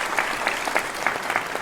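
A concert audience applauds a young performer at a youth orchestra concert, clapping steady and full throughout with a few sharper individual claps standing out near the front.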